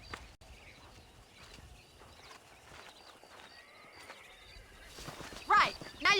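Horses in the Red Dead Redemption video game, soft hoof clip-clop and movement through quiet ambience, then louder snorting or whinnying bursts near the end, with voices talking in places.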